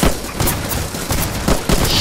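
Rapid gunfire from the Roblox trench-warfare game Trenches, dense overlapping shots and bursts cracking loudly throughout with no pause.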